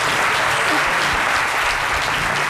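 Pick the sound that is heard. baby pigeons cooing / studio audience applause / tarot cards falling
studio audience applause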